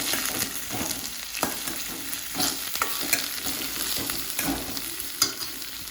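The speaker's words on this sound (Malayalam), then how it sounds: "ഉള്ളി ഒന്ന് വഴന്ന് വെക്കുക നല്ലപോലെ." Chopped onion sautéing in a hot pan gives a steady, close sizzle throughout, with stirring scrapes and soft knocks of a spoon mixed in; no one speaks.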